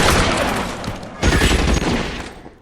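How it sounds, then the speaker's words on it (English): Automatic Tommy gun fire in the video game LA Noire, dense overlapping bursts of gunshots in a chaotic fusillade, loud and sustained, with a second heavier volley midway before trailing off. "sound like he got a Tommy gun up there"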